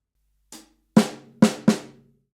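A soft tap followed by three sharper drum hits in quick succession, close and dry, with a quiet lighter stroke leading in; ghosted snare notes with hi-hat.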